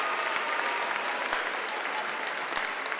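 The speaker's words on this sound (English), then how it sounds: "Give each other a round of applause." Graduating students at the 2013 Utica Academy for International Studies commencement give each other a round of applause, a dense, steady wash of many hands clapping in a large hall, sustained evenly throughout.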